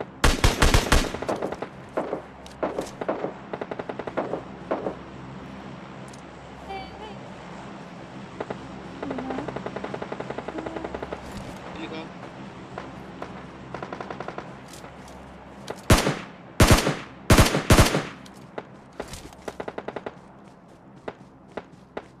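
Gunfire in PUBG Mobile Lite comes in rapid automatic bursts and single loud shots, with heavier, louder volleys near the end, mixed with game footsteps and a voice talking.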